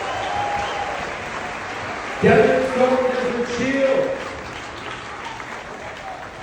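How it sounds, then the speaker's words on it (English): A cruise ship audience breaks into applause for military veterans in an onboard lounge, a swelling burst of clapping rising over the host's amplified voice and crowd murmur. "Please, a big round of applause for the cheer."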